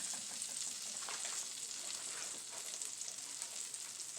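A butter, brown sugar and cognac sauce cooks in a pan with a soft, steady sizzle and light bubbling, faint and even throughout with no talk.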